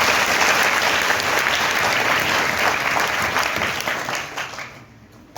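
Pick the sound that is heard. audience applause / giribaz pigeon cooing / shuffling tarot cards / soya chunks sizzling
audience applause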